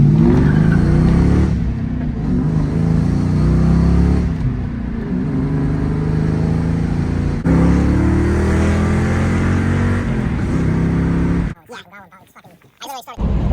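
A cheap Ford Mustang is driven on the road, its engine droning and revving up in a few pulls under steady road noise, loud and close, before cutting off into brief rustling near the end.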